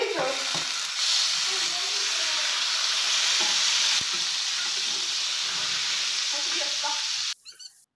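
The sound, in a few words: chicken frying in oil in a frying pan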